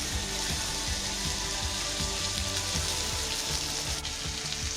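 Meat sears in a hot pan with a steady, close sizzle and crackle that runs evenly throughout, with no voices.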